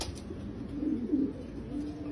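Pigeons, racing birds kept by an owner in Mosul, coo softly and steadily under a low, muffled background, with a few slightly louder swells in the middle.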